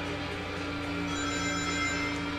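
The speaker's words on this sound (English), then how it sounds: "Ring, ring. Ring, ring. Phone call." A telephone rings in the Sonic Adventure 2 video game, a steady electronic tone that holds on without a break, quiet and alone.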